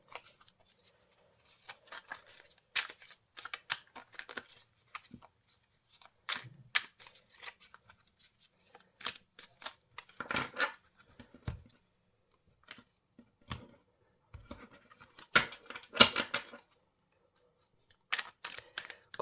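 Tarot cards shuffled by hand at close range in a quiet room, with irregular bursts of crisp riffling and soft slapping snaps, alone without talk.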